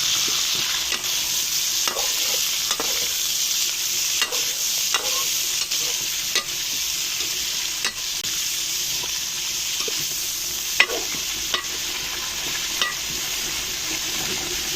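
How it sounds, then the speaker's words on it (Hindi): Beef chunks fry in hot ghee in a karahi with a loud, steady sizzle, broken by regular scraping clicks of a stirring spoon; no talking. "बीफ को अच्छी तरह से फ्राई करेंगे।"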